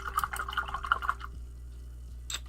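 A paintbrush rinsed in a cup of water gives a quick run of small splashing, dripping sounds that stop partway through, followed by a brief faint clink, all close and fairly quiet.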